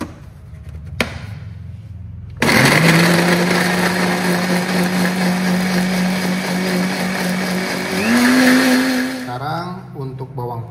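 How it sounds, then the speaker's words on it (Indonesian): An electric blender whirs loudly while blending bird's eye chilies with a little water, starting abruptly after a few faint kitchen knocks, running at a steady high-pitched drone, then its pitch shifts near the end before stopping. "Dan kita akan tutup dan kita akan mulai blender sekarang ya."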